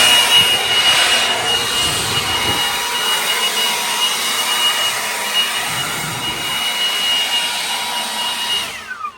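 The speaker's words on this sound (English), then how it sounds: "So my husband is blowing the deck off." A leaf blower clears debris off a backyard deck, making a loud, steady broadband roar that holds close and constant throughout before dipping slightly at the end.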